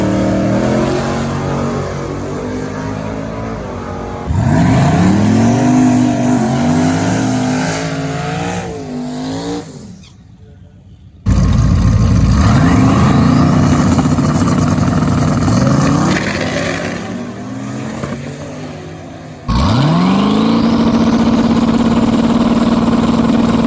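A drag racing truck fitted with a 78/75 VS turbo idles, then launches in repeated loud, close runs, each rising through the revs and dropping off before the engine spools up again, with turbo whine over the roar.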